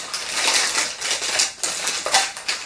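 Crackly, rapid tearing of strong adhesive tape being pulled off a surprise package during unboxing, close and continuous with uneven ripping bursts and no talking.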